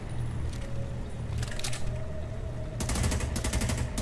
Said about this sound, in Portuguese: O NPC toma um monte de tiro na cabeça ali.